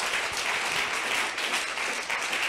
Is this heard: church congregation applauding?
yes